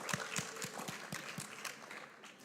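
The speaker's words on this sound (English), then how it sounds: "Give yourself a round of applause." A small audience at a Girls in ICT event gives a short round of clapping: a handful of distinct, fairly close claps in an uneven rhythm that thins out toward the end, with no voices.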